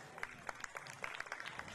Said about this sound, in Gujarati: આપણે સૌ તાળીઓથી જોડાતા રહેશું